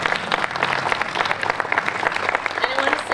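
An audience at a recovery walk event applauds award recipients, with sustained crowd clapping full of sharp individual claps, moderately loud, with faint voices mixed in.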